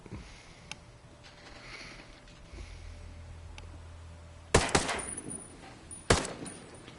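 Gunfire at targets on a tactical shooting course: two distinct bursts of sharp shots, the first a rapid cluster of several reports and the second a single loud crack, heard at moderate distance over faint outdoor background.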